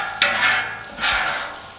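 Onions being scraped off a flat-top griddle outdoors, two rough metal scraping strokes over a light sizzle, close by.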